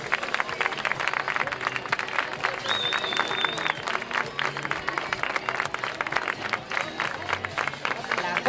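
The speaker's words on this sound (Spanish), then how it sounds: "Un aplauso para ellos" Steady crowd applause with some cheering and crowd babble at an outdoor charity cancer run awards ceremony in Vigo, loud and continuous throughout.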